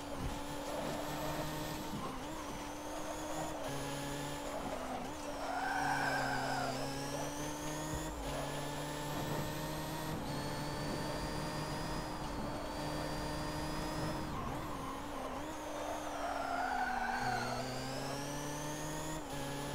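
Racing car drifting through corners in Forza Motorsport 7, with a steady engine drone and long, sustained tyre squeal rising and falling across the turns. No talk.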